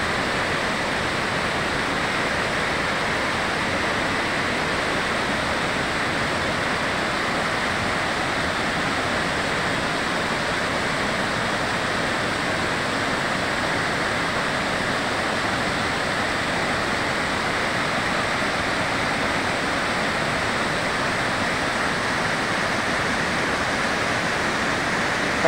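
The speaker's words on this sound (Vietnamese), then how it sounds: "À chỉ là cái thác này đổ từ trên cao trên kia xuống, nước trong khá đẹp ạ." A waterfall pours down from a height onto large boulders, a dense, unbroken roar that stays loud and steady throughout with no talking.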